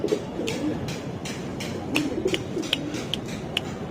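Soft, low pigeon cooing repeating nearby, mixed with a series of sharp light ticks or taps at a fairly regular pace.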